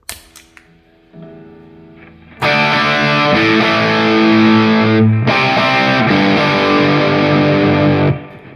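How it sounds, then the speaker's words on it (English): An electric guitar played through the distortion side of a Big Joe Empire Dual Overdrive pedal: a few quiet picked notes, then loud, sustained, buzzing chords ring out for several seconds before cutting off. "let's switch over and play with the distortion side a little bit."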